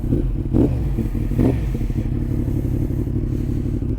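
A Yamaha MT-10 motorcycle with a Stage 1 tune at 183 hp rumbles loudly and close, its deep engine note swelling in two brief revs over a continuous throaty drone.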